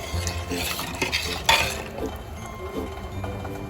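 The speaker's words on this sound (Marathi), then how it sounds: "तर आता आपण हे मिक्स करून घेऊया" A spoon stirs amti, a dal curry with kokum and salt, in a pot, scraping and clinking against the metal with one sharp clink midway, close and moderately loud.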